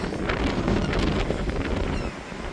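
Strong wind gusting across a beach, a continuous broadband roar buffeting the microphone with faint surf beneath, loud and steady throughout with no talking.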